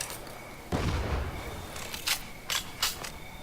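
Gunfire from the zombie video game State of Decay: one heavier shot, then three sharp cracks in quick succession, set against a low background hum.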